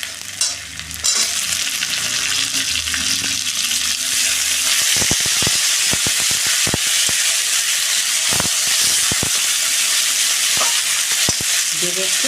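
Tomatoes and ginger fry in a pan with a loud, steady, close sizzle and hiss, with spoon taps and stirring knocks scattered through the second half and a brief low rumble at the start; no voices.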